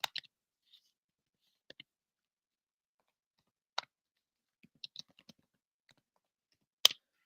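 Sparse, isolated clicks of keys being pressed on a computer keyboard come in small irregular bursts, separated by long quiet gaps and fairly faint.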